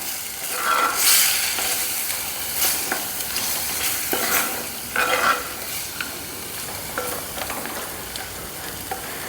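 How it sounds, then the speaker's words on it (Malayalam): Mango pieces are stirred into boiling masala paste for Kerala-style mango mappas, giving a close sizzle broken by repeated scraping stirs. "ഇളക്കി കൊടുക്കാം."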